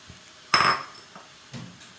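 Metal spatulas strike a hot griddle while chopping egg kothu parotta street food, giving one sharp clanging hit followed by a softer tap, close and otherwise quiet.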